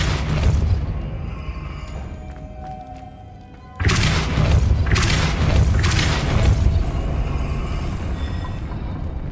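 A Depulso spell striking in Hogwarts Legacy: a sudden heavy boom, then a sustained rumbling, crashing roar with repeated surges, following a quieter, steady ambient stretch.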